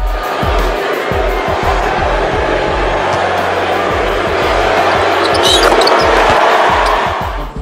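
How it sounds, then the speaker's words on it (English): A large basketball crowd at the Barclays Center chants MVP for Steph Curry, a loud, rhythmic roar with repeated low pulses that carries over a continuous wash of arena noise. "There were some MVP chants there."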